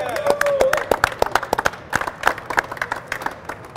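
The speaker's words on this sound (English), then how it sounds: "Can we get a round of applause for our SEALs?" Audience applause and cheering for Navy SEALs at a podcast event, a scattered burst of clapping with sharp individual claps, fading a little over a few seconds, with voices mixed in.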